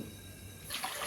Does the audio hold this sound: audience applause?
no